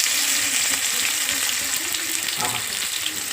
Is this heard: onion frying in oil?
yes